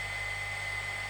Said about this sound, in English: There I am, grinding the crap down now.